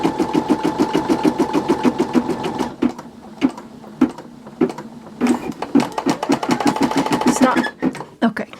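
An embroidery machine stitches an in-the-hoop Christmas ornament, a rapid close rhythmic needle clatter that pauses briefly midway, then resumes while a person talks over it.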